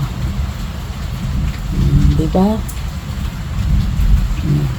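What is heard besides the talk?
heavy rain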